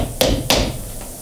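Two sharp, close hammer taps drive upholstery tacks into the wooden frame of an 1860s antique chair, struck a fraction of a second apart, with a fainter third tap trailing after.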